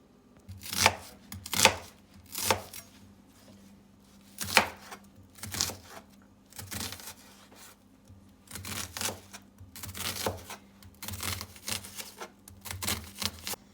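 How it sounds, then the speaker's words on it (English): A knife chops salted fish ingredients and baby spinach on a cutting board, giving sharp, close thuds in uneven bursts separated by short pauses. "So let me cut up these ingredients and come right back."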